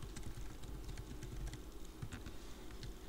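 Steady keystrokes on a computer keyboard while entering commands in a command prompt, a quick irregular clatter running continuously throughout at a moderate, close level with no talking.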